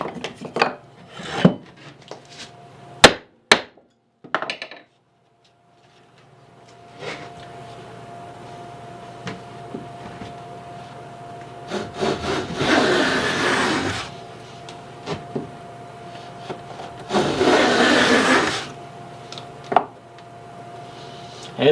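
Hand plane shaving wood on a dovetailed drill press cabinet: a few sharp knocks, then two long rasping strokes a few seconds apart over a faint steady hum, with quiet gaps between.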